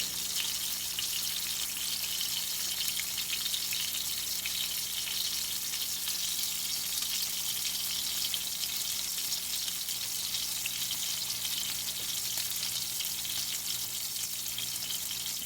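Steaks sizzle in hot beef tallow with a dense, constant hiss and fine crackle, steady and moderately loud throughout, close to the pan, with no talking.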